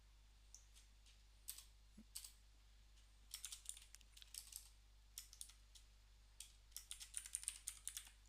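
Keys clack on a computer keyboard in irregular bursts of quick, light taps, close and quiet, over a low steady hum with no voices.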